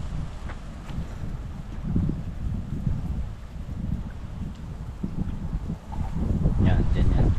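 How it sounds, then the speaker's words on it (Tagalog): Wind buffets a small boat at a riverbank or shallow shore, a steady low rumbling roar against the microphone, while people talk over it throughout. "Sarap ng hangin ah"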